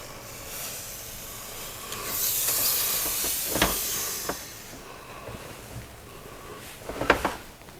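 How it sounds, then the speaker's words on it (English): A Steamery Cirrus X handheld clothes steamer hisses steadily as it steams a wrinkled shirt, the broad hiss swelling and fading with a few sharp clicks and bursts, close and alone without talk. "let's test out the 120-pound steamer from Steamery. So this is a Cirrus X model."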